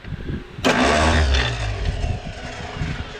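A vintage Ford 300 engine, choked, cranks briefly then catches and roars to life, settling into a loud, steady run up close with no talk over it.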